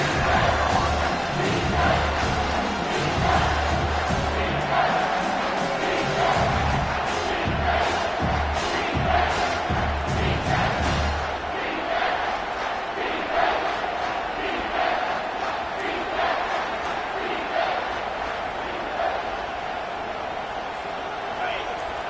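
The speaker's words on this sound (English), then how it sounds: "this crowd is bringing down the house" Stadium crowd in an NCAA football video game roaring on a big third down, a loud dense swell that drops back after about eleven seconds, with a commentator talking over it.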